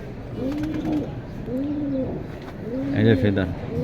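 Kata Moni Silver pigeons coo in repeated soft, rolling calls, three phrases close by, with a brief higher chirp near the end.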